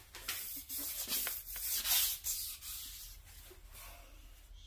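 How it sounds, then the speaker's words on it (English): Sandpaper rubbing back and forth across a crankshaft journal on a Mustang engine, a steady scratchy abrasive rasp with repeated strokes, close and moderately loud, no voices. "make sure your sandpaper actually stays on the journal"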